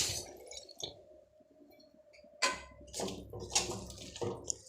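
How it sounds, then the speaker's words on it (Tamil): Water is poured into a pan of frying ivy gourd with chili powder, giving a brief sizzle followed by a soft, steady trickle and then clattery stirring and splashing noises close by. "கோவக்காய் வேகத்துக்கு தேவையான தண்ணி ஊற்றிக்கிறேன்."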